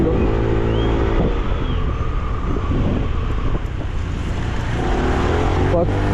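A SYM Jet-X 125 scooter engine pulls steadily uphill, a loud continuous drone with wind rush, while a rider talks over it throughout.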